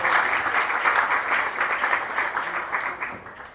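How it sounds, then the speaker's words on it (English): Audience applause after a keynote presentation, a full, steady round of clapping from a crowd, holding at an even level throughout with no voices. "Could I just have another round of applause?"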